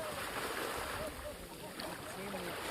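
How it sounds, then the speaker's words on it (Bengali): Sea waves wash steadily along Dhanushkodi beach near Rameshwaram, a continuous broad rush of surf and wind with no clear breaks. "এইটা দারুণ দারুণ সমুদ্র।"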